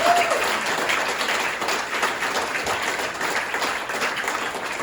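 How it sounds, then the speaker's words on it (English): Guests at a religious affairs specialist gala applaud the regimental association, and loud, sustained crowd clapping fills the room evenly from start to finish. "let's give our regimental association a round of applause"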